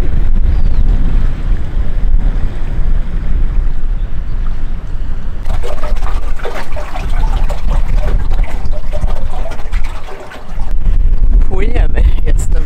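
Small boat carrying a single passenger across a swift-flowing river, with loud continuous rushing water, engine and wind buffeting on the microphone, a brief dip near the end, and a voice talking over it partway through.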